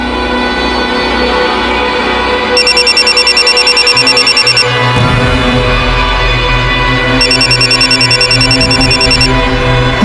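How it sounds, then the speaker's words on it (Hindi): A phone rings in two bursts of rapid electronic trilling, separated by a pause, over background music and low hum. "भाभी साहब का फोन बज रहा है"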